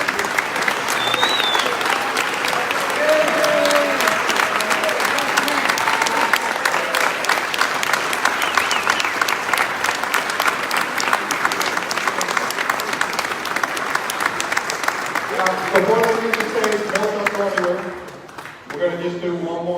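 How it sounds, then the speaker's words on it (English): Sustained applause from a large crowd at an aviation museum gala, dense and steady for most of the clip, with faint voices and a few shouts mixed in before it tapers near the end. "Applause for Bill Ringwood, Dean Grant, Jerry Griffin, and Fred Hayes."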